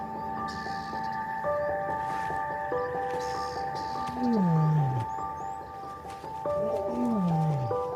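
A lion roars in a few deep, falling groans in the distance, set against birdsong and a steady hum of morning background noise.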